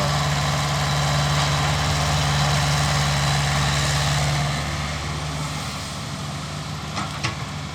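A Komatsu PC60-5 excavator, about 14 years old, loading soil into dump trucks: a steady droning diesel engine hum with a low tonal rumble, easing slightly toward the end with a few faint clanks.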